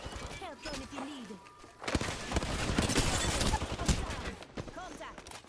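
Gunfire in the video game Apex Legends, a dense crackle of shots filling most of the clip with in-game voice callouts over it.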